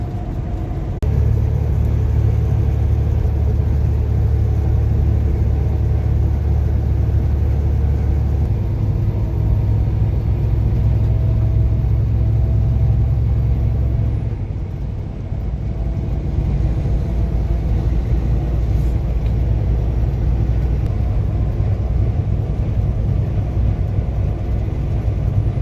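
A freight train led by BNSF and Ferromex locomotives, one in warbonnet paint, rolls past in California as a heavy, continuous low rumble that stays loud for nearly half a minute and eases slightly midway.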